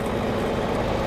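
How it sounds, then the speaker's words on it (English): A Cummins ISB 6.7 diesel truck engine with a fuel pump failure and low fuel pressure idles steadily up close, a continuous low rumbling drone with no talk over it. "the truck is running, as I say, normally"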